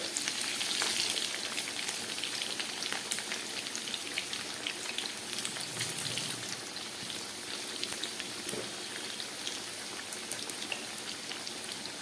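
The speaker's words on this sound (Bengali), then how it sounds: "আলুগুলোকে এবার আমি খুব ভালো করে ভেজে নেব" Potatoes frying in oil, seasoned with salt and a little turmeric, give off a steady, dense sizzle with crackling pops that holds close and loud throughout, with no voices.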